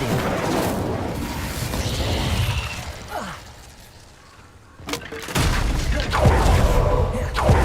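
An Incendio fire spell cast in Hogwarts Legacy: a loud roaring whoosh with booming bursts, dipping into a quieter stretch before a sharp crack and another dense, forceful blast of flame.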